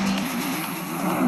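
A racing car engine in the Monoposto racing video game holds a steady, buzzing mid-pitched tone that rises slightly toward the end, brief and fairly loud, with no voices.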